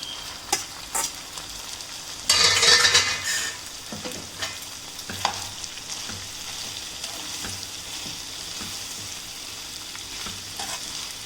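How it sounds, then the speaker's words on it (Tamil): Chicken and spaghetti being stirred in a hot pan, with a soft steady sizzle, one brief louder scraping rush of tossing and a few light utensil taps. "இப்போ என்ன பண்ணலாம்னா ஸ்பெகட்டி ஆட் பண்ணி நம்ம மிக்ஸ் பண்ணி விட்டுக்கலாம்."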